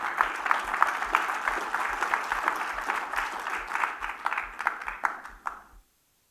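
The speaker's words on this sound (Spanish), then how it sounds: "Dele palmas al Señor si lo cree." A church congregation clapping together in a steady rhythm, close and lively, continuing for several seconds before stopping abruptly.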